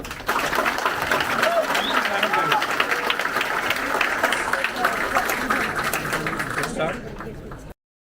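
A conference audience claps for teams being thanked during a business talk, a dense, steady round of applause running for several seconds at moderate level before cutting off abruptly, with some voices mixed in.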